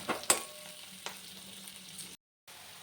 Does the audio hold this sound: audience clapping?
no